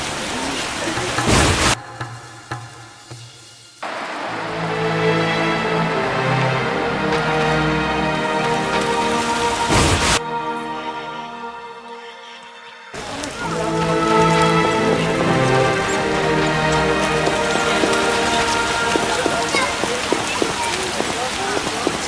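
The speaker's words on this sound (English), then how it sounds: "The scourge of the Lord's this rain." Rain falling in The Witcher video game, a soft patter running beneath game music that breaks off twice, with a voice speaking over it.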